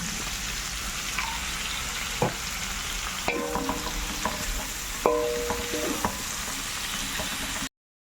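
Chayote sautéed in a pan with chorizo and carrots, giving a constant, dense sizzle with occasional clinks and scrapes of stirring in the middle, close and steady before cutting off abruptly; no talk.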